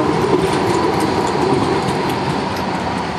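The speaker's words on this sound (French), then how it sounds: "Alors ça c'est un tram comme on connaît à Paris" Tram passing along King William Street in Adelaide, Australia: a loud, close, continuous rail rumble with metallic wheel clatter and a faint squeal, steady for the whole stretch.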